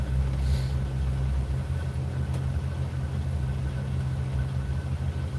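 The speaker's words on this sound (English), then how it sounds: "This is a 454 in here with headers on the motor." A 454 big-block V8 fitted with headers idles inside an RV while it warms up. It gives a steady, deep, throbbing rumble close by, with no talk over it.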